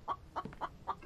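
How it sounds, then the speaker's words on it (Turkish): A chicken clucks in four short, evenly spaced bursts, close and fairly soft, with a faint low sound between them. "Ya şu tavuğu kovun ya."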